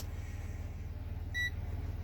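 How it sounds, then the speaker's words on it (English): A multimeter beeps once briefly, a short high electronic tone standing out faintly over a steady low hum, as if warning it has been left on too long. "I got a beep somewhere. Oh, I think it's the multimeter complaining that it's been on too long."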